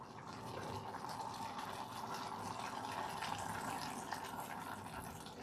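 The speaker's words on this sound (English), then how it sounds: "I'm going to add a little bit more water." Water poured into a cooking pot of simmering lotus root and bok choy soup, a steady close wash of liquid running for several seconds with no talking.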